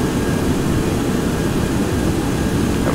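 Light aircraft engine throttled back during climb-out to 3,000 feet, a steady, loud broadband drone with a low rumble held evenly throughout, no voices over it.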